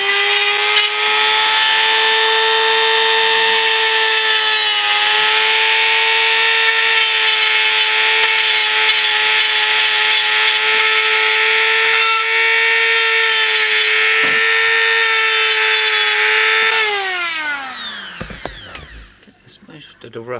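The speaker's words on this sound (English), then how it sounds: "I think we're going to use the Dremel. Okay, we're going to start off with this grindy bit" A Dremel rotary tool with a grinding bit shrieks steadily against a metal TV bracket, a loud high-pitched whine with gritty scraping bursts, then winds down as the motor spins to a stop; a voice speaks faintly underneath.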